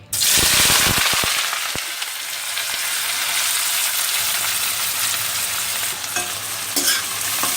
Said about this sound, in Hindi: अब इसमें हम प्याज तल लेंगे।